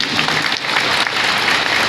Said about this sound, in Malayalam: എല്ലാവർക്കും സന്തോഷമായിട്ട് കൈയടിക്കാം